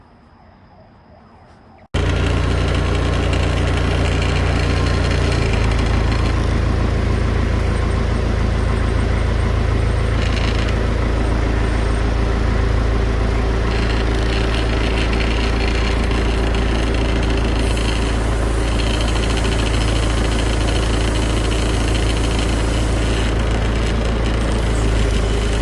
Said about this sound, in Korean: 이렇게 해서 지게차로 들어 올려 보겠습니다.